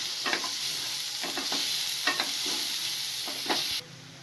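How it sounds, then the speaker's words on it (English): Soyabean momo filling sautéing in a pan gives a loud, steady hiss of frying, punctuated by a few soft spatula scrapes, before the sizzle drops away abruptly near the end; nobody speaks. "Saute it for a minute."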